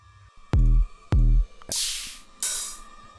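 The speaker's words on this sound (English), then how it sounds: "taking a kick drum and a hi-hat that sounds like this" Two deep, punchy kick drum hits in quick succession, followed by two bright, hissy hi-hat sounds, each sample standing alone with short gaps.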